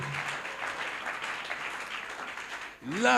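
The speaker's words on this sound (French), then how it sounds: "Tika ndeko mo wabetela Yesu Kristo mboko." A church congregation at a Sunday service claps steadily in praise of Jesus Christ, a continuous moderately loud patter of many hands that runs the whole time, with a voice rising at the end.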